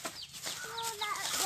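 A hen with a chick clucks nearby on a farm in short, rising calls, with a few chirpy notes layered over a quiet outdoor background.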